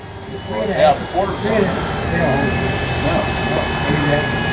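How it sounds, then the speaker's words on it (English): A FlightLine 1200mm F8F Bearcat RC warbird's engine drones steadily overhead, blended with outdoor wind noise and people chatting nearby. "What a sweet flying warbird!"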